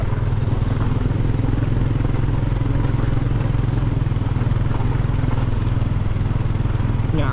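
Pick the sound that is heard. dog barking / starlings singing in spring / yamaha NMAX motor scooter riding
yamaha NMAX motor scooter riding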